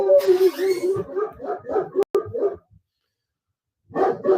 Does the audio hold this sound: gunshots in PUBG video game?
no